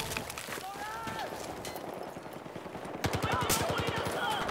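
Rapid, automatic gunfire from a Battlefield 4 multiplayer match: dense overlapping shots, then a steady, evenly spaced volley of loud, close bursts over a constant battle din, with faint voices mixed in.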